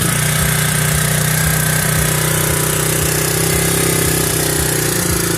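A 1983 motorcycle engine idling a little high on a cold winter day in Pennsylvania, a steady loud rumble with regular low pulses throughout, no talking.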